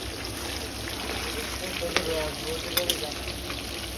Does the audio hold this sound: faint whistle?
no